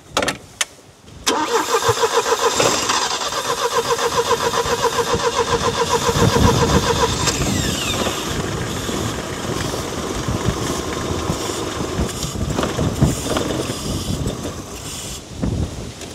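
A car engine is cranked with starting fluid after a brief pause, catching and running as a loud, close, uneven idle that roughens and fluctuates throughout.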